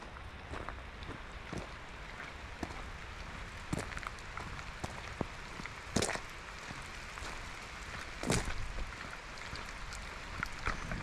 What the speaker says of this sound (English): as you can probably see, it's raining pretty good.